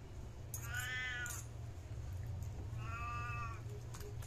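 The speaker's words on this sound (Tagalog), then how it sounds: "Siyempre yung pusa ang mamiyaw." A cat meows twice, with two drawn-out, tonal cries about two seconds apart, fairly close and clear over a low steady hum, at a lechon restaurant in Manila.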